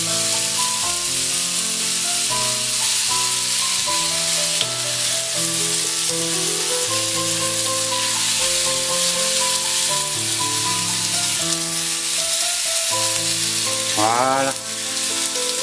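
Okonomiyaki batter fries on a griddle with a steady, loud sizzle that fills the whole stretch, with a brief spoken word near the end.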